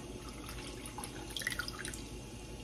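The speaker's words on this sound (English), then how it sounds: "I'm going to go ahead on and pour in my milk" Milk, a mix of canned and 2% milk, is poured into a bowl for homemade banana pudding, making a faint, soft trickle with scattered small splashes and no talking.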